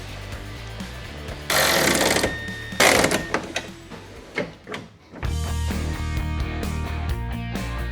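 Tightening the tailgate handle on a Ford Raptor during a tailgate light bar install, heard as loud bursts of power-tool whirring and mechanical rattling, broken by brief pauses and clunks, close by with no talk.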